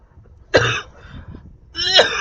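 A sports commentator for an NBA 2K12 basketball game coughs twice, two harsh, close bursts separated by a short pause, with no talk in between.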